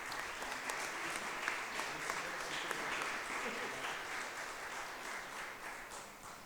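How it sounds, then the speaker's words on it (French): Audience applause at a French weather-enthusiast associations' final, a steady wash of many hands clapping throughout, fairly even in level with no voices standing out. "on peut l'applaudir pour son travail également"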